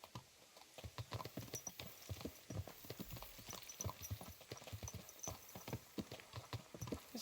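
Rapid, rhythmic clip-clop of horse hooves trotting steadily in a video game, fairly close and quiet, continuing throughout.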